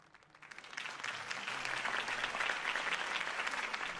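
In the video game Batman: The Telltale Series, applause swells up from a few scattered claps into steady, dense clapping from a crowd, moderately distant and sustained to the end.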